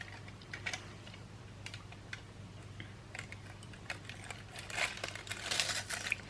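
Sheets of foil are handled while wax melts are being made, giving faint crinkling and light tapping and ticking that grows a little busier toward the end over a low background hum.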